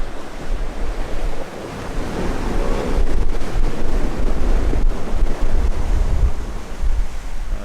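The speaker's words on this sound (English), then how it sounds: "And the waves are starting to build now as well." A sailboat under reefed sail moves along a windy coastline in 26-knot winds, surf rushing and building waves washing past while gusts buffet the microphone, loud and continuous with no voices.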